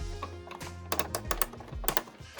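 A 1970s Kenner Palitoy Millennium Falcon toy gunner's chair being rotated, with a small plastic piece underneath making a rapid series of close, light plastic clicks over a low hum.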